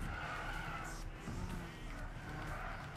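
Car braking hard into the blue chicane at Le Mans in Gran Turismo 6, a sustained tyre skid and squeal over engine noise, steady and fairly loud for a few seconds.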